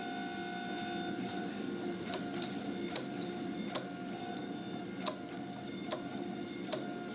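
Hammer blows ring out at a steady, spaced rhythm as a Damascus steel billet for a katana is drawn out, each strike a sharp metallic clang with bright ringing overtones over a constant background hum.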